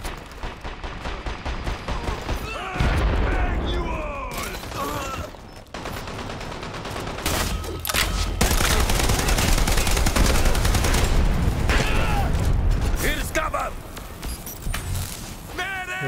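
Gunfire in the video game Dirty Bomb, striking a deployed shield on the Underground map, with loud dense bursts of shots and impacts across most of the stretch and game noise underneath.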